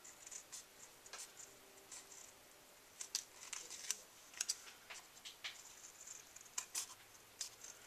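Small scissors or a hobby blade trimming excess plastic off a model kit part, a series of faint, sharp snips and light crinkles spread across the clip at an irregular pace, close but quiet.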